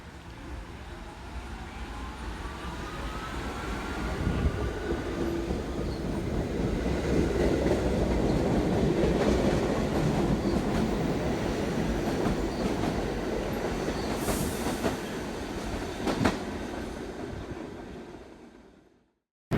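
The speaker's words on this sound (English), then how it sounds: "This is a Manhattan-bound C local train." A New York City Subway C local train rumbles steadily along the tracks with rattling wheels and a few sharp squeals, loud and close, then the noise cuts off abruptly at the end.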